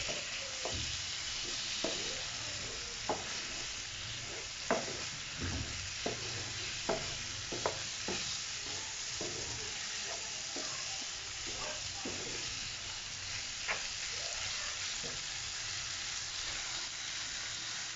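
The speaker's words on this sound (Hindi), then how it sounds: "और ये जो हमने पेस्ट तैयार किया था वो डालेंगे। और अब हम इसे भूनेंगे।" Spice paste for egg jalfrezi frying in a pan, with a steady sizzling hiss and regular scraping knocks of a spoon as it is stirred, close and constant throughout with no talking.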